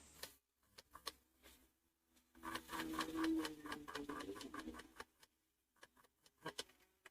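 A sewing machine stitching thread piping onto the neckline of a dress, heard as a quiet, steady mechanical whir with a rapid ticking rhythm, broken by short pauses.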